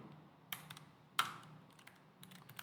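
Keyboard keystrokes on a computer, including the Enter key, come as a few isolated sharp clicks with a louder press near the middle, close and quiet over a faint background hum.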